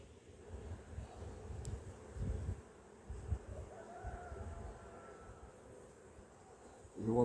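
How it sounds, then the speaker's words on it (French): Honeybees buzz softly around an opened hive during a transfer from a nucleus box to a full hive, a low, steady hum with faint wind and a few brief handling bumps, no talk. "des abeilles,"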